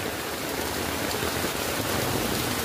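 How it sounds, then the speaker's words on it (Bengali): Heavy rain pours down in a dense, even hiss, loud and close throughout with no voices. "প্রচুর বৃষ্টি।"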